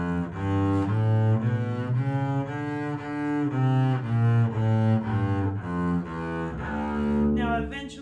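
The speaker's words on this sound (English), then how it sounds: "Okay, so melodic minor sounds like this." A bass plays the C melodic minor scale as a steady run of single sustained notes, close and solo for several seconds, ending with a short noisy scrape.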